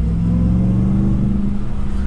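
A Ram TRX pickup's supercharged engine runs steadily and loudly up close, a deep rumbling idle-to-rev drone with a sustained low tonal whine, no speech over it.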